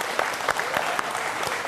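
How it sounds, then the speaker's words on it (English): Audience gives a round of applause for visiting hockey guests, a dense crowd clapping at moderate volume throughout the short stretch, with a few sharper claps standing out. "Let's give those guys a big round of applause"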